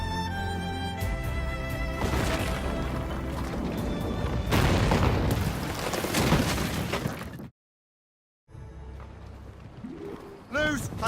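Ship cannons firing during a naval battle in Assassin's Creed Rogue, heavy booming blasts and crashing impacts over a dense din, with a short silent gap, then more bursts, while voices shout orders.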